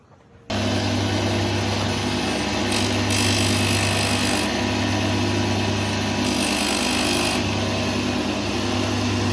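A woodworking machine runs on oak during an antique desk restoration, starting abruptly and holding a loud, steady whirring roar with slight shifts in pitch as the wood passes through.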